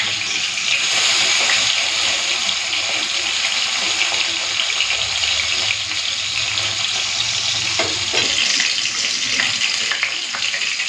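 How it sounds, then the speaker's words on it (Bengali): Fish fries in a pan of hot oil, giving a loud, continuous close-up sizzle and crackle that holds steady throughout with no break. "মাছের এক পিঠ ভালো করে ভেজে নিয়েছি, এরপর আমি সাবধানে উল্টিয়ে দেবো"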